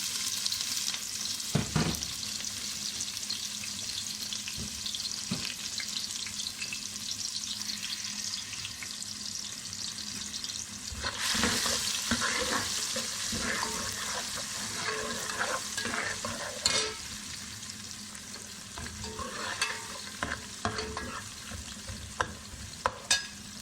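Onions sizzling and frying steadily in a hot pan with cumin, for masoor dal, with occasional stirring scrapes and crackles throughout; no one talks.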